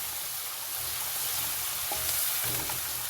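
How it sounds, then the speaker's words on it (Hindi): A tablespoon of whole cumin seeds sizzles in hot oil over a high flame while making mutton nargisi kofte, a steady bright hiss that swells slightly partway through, with a faint clink and no speech. "साथ ही मैं इसमें 1 मिनट के बाद ज़ीरा ऐड कर दूंगी।"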